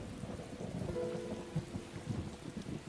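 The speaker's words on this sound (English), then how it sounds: "This thunder's pretty intense" Thunder and rain in the video game Tales of Xillia 2: steady rainfall with low rumbling thunder, moderately quiet and continuous for a few seconds, with no voices.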